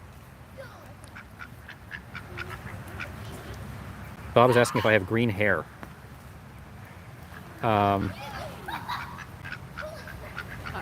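Ducks quack in loud bursts near the middle and again later, set in a busy outdoor protest scene with people talking before and between the calls.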